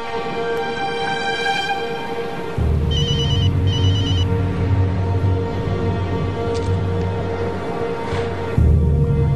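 A telephone rings with a repeating electronic tone while an outgoing call is placed, set against a low steady hum, with no speech.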